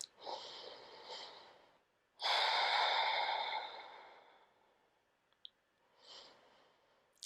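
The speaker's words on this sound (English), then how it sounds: "And breathe." Slow, audible breaths during a yoga quad stretch: a soft exhale, then a long, strong breath lasting about two seconds, followed by quieter sighing breaths and a faint click.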